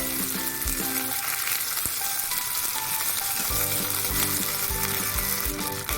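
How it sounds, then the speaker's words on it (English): Washed spinach stirred in a hot pan for a spinach curry, sizzling steadily and close, with a sharp spatula knock early on and a constant frying hiss throughout, while soft background music plays underneath. "Just give it a small stir."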